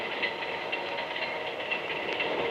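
A moving train rolls along the rails in a steady, muffled rumble with a faint rhythmic click of wheels over track joints, heard alone as a radio drama background effect.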